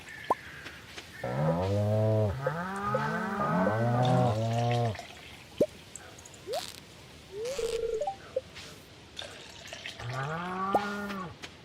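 A cow mooing in the game Palworld, a series of loud, drawn-out moos in quick succession, then a pause with small clicks and effects before another moo near the end.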